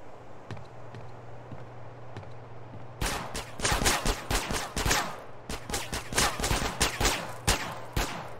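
Rapid automatic gunfire in GTA San Andreas bursts in after a quiet stretch, a dense run of loud, close shots in uneven clusters over a low game hum.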